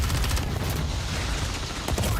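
Dense gunfire in a Call of Duty multiplayer match: loud, continuous automatic bursts and overlapping shots fill the whole moment, close and relentless, with heavy low rumble beneath.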